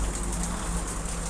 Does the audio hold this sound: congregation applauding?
no